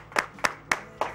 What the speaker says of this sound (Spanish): con este aplauso lo despedimos a Gonzalo Villarino